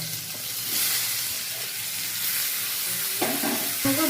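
A mixed vegetable curry with drumstick stalks fries with salt and turmeric, a close steady sizzle and hiss with a few stirring scrapes and clinks toward the end.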